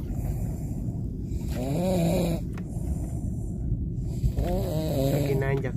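A man snores loudly aboard a fishing boat, two long rasping snores with a shorter gap between, over a constant low rumble of engine and water.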